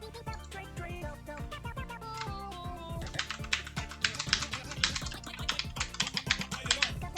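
Continuous computer keyboard typing, rapid clattering keystrokes that grow busier and louder midway, with no talking.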